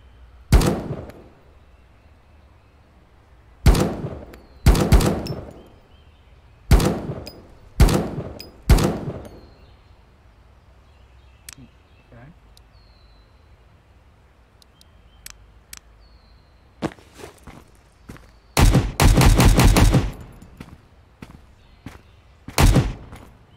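Gunfire rings out from a gun in the survival shooter Road to Vostok, loud single sharp shots spaced irregularly, followed by a tight rapid burst near the end, each crack standing out against near silence.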